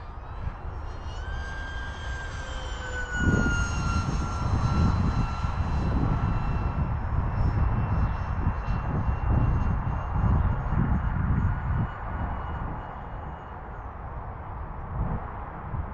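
An Atomrc White Dolphin RC plane flies with a small 6-inch propeller, its electric motor giving a steady buzzing whine that shifts in pitch as it passes, fairly loud and continuous, with no talk.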